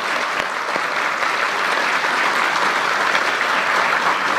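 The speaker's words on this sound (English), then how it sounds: "I think he deserves a very robust round of applause for all the work that he has done." Robust, continuous applause from a large audience at a business partnership event addressed by the president, loud dense clapping sustained steadily throughout with no speech on top.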